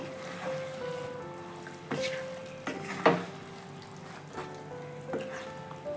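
Mutton korma with papaya paste, salt and sugar is stirred in a pan, a soft sizzle under scattered scraping and clinking strokes of the spoon against the pan, one sharper knock midway.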